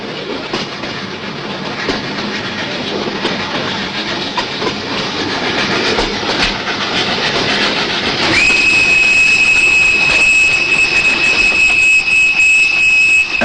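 A 1930s train running on the Baghdad–Berlin railway line, with continuous rolling rumble and clatter of railroad cars, joined after several seconds by a long, steady steam whistle that holds to the end.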